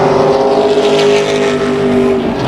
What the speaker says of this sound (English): Side by side down the backstretch, and the number 1 car powers well, got about a half a car length on Harry.